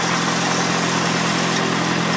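A 1951 Farmall Cub tractor engine idles down close by, a steady loud rumbling drone with no talk over it.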